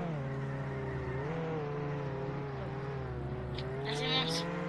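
A Lamborghini engine in a racing mini-game hums steadily at a sustained pitch that rises and falls slightly as it drives. A brief burst of sharper noise comes near the end.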